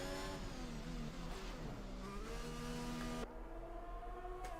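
A race car engine from a racing video game drones at steady revs as it heads into the pits on an Azerbaijan street circuit, a sustained buzzy tone that shifts pitch and then settles lower and quieter.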